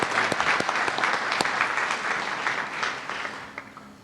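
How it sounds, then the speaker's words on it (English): An audience at an annual medical society meeting gives a round of applause, a dense, loud wash of clapping that holds steady for several seconds before it starts to thin and fade. "Let's give a round of applause for Al and for Teresa"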